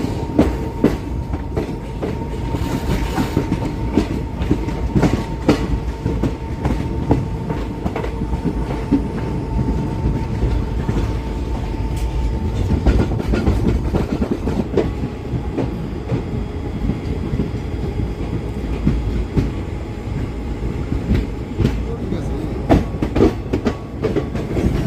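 A passenger train on the Dullabcherra to Guwahati line runs steadily on its rails, heard from inside the carriage as a constant loud rumble with rhythmic wheel clatter and faint squeals throughout.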